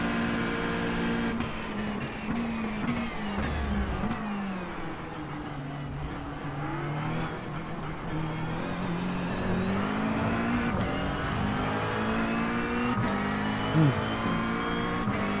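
A Mustang race car engine in a racing video game drones steadily throughout, its pitch sweeping up and down through gear changes, loud and continuous with faint tire noise.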